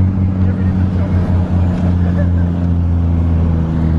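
A Toyota Caldina at a roll racing event, its engine holding a steady low drone with harmonic bands and a slight rev swell, loud and near, with voices talking over it.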